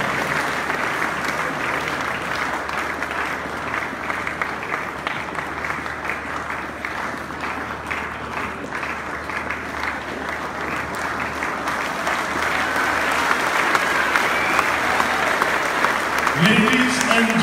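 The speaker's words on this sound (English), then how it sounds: "Round of applause, ladies and gentlemen." A church congregation at a wedding celebration gives a long round of applause, steady clapping that swells louder toward the end, where a voice begins to speak over it.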